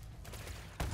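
Ground troops opening fire in the Halo Wars 2 strategy game: a dense, continuous crackle of distant small-arms fire under battle ambience, with a heavier burst near the end.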